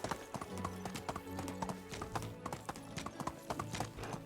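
Donkey hooves clip-clop in the video game Medieval Dynasty, a steady and fairly quick rhythm of hollow knocks that keeps going over a faint background hum.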